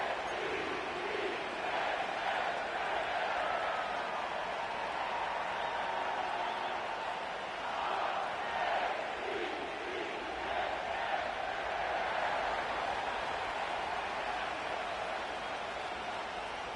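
A stadium crowd roars in Madden NFL at M&T Bank Stadium in Baltimore, a dense, steady wash of distant cheering that rises and falls slightly but never stops.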